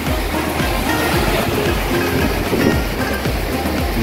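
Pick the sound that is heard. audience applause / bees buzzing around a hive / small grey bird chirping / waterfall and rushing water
waterfall and rushing water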